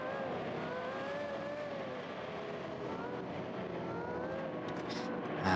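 A race car in a GT World Challenge sim race sweeps through Blanchimont at the Belgian Grand Prix circuit, its engine holding a steady, continuous high-revving drone with a rising whine at the end.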